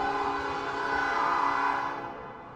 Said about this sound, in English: I'm sorry for the train